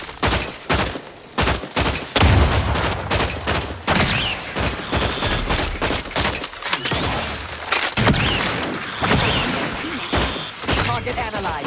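Dense, continuous gunfire from The Outer Worlds 2 video game, with rapid bursts and heavy thumping impacts layered together, loud and close throughout with barely a pause.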